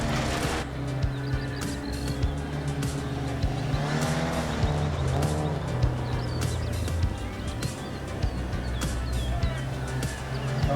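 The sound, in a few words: car driving in a racing sim video game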